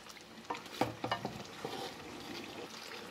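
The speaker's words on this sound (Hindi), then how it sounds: "मैं इसको अब दही डाल के अच्छे से भूनूँगी 3 से 4 मिनट के लिए मीडियम हाई फ्लेम के ऊपर।" Chicken karahi frying with whisked yogurt over a medium-high flame, soft sizzling with stirring scrapes and clinks in the pan, faint and close.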